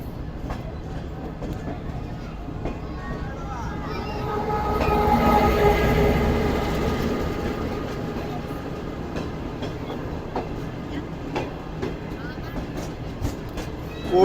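Special passenger train running past Radhan railway station without stopping, a steady rolling rumble with rhythmic wheel clatter that swells in the middle and stays under a light background.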